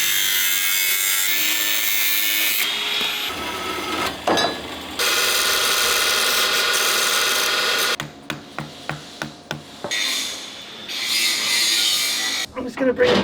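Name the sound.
cutting off a cooling system tube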